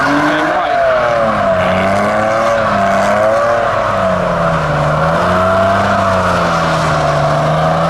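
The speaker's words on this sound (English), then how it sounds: "He has a very wobbly exhaust." A modified car with a wobbly exhaust idles close by at a car meet, its loud, steady drone warbling up and down in pitch without pause.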